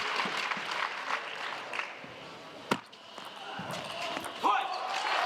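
Crowd applause at a table tennis match at the 2016 Swedish Open, a steady patter of clapping with a few sharp knocks standing out, fairly distant and moderately loud.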